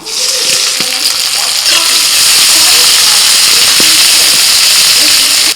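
Loud, dense sizzling of chopped onions frying in hot mustard oil in a wok, a constant hiss with occasional spatters, close up and uninterrupted.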